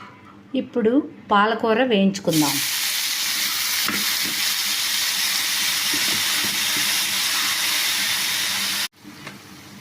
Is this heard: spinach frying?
yes